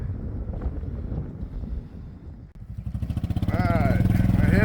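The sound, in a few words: strong wind on a farm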